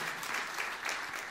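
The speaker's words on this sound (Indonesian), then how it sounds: "sepakat tepuk tangan yang meriah untuk kemuliaan Tuhan" A church congregation applauds steadily at a sermon, a dense, even wash of many hands clapping at moderate distance with no voices over it.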